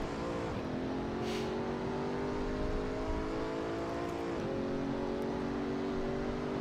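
Pagani Huayra engine in Assetto Corsa accelerating hard around Monza, a steady loud mechanical roar rising in pitch through the gears with a brief dip at a shift, alone with no talk.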